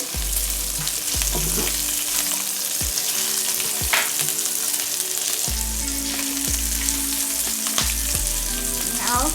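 Carrot rice with cashew nuts and green chilies frying in a pan, a loud continuous sizzle broken by repeated spatula scrapes and stirring knocks at an irregular rhythm, no voices.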